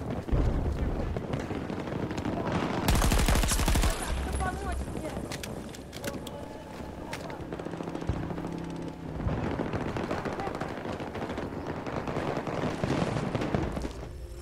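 Gunfire and loud game action in Battlefield 2042, a dense wash of shots, wind and effects with a heavy burst near the start, running steadily throughout.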